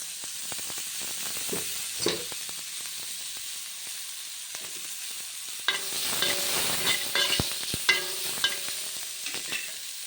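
Chopped tomatoes sautéing in hot oil in a pan, a continuous soft sizzle with scraping stirs and clinks of the spatula growing busier in the second half.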